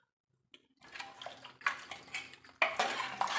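Kerala-style beef curry with curry leaves being stirred in a pot, heard as scraping and clattering spoon-against-metal strokes that start after a short silence and grow louder and busier toward the end, with no talking.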